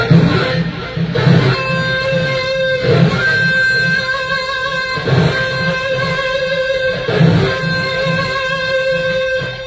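Muted guitar strings raked in quick sweeping strokes, a percussive scratchy rhythm repeating steadily against a sustained ringing tone, fairly loud and close.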